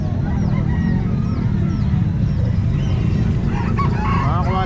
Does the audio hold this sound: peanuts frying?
no